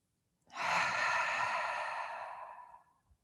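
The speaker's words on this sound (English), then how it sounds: "One more time, full inhale. And exhale." One long, deep breath out during yoga breathing, a soft airy whoosh that starts abruptly, holds steady, then tapers away into quiet, close and alone.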